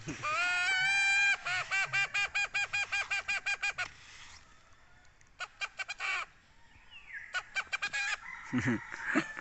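A rooster crows loudly up close, followed by rapid repeated calls, then more crowing bursts after a pause, with faint background voices toward the end.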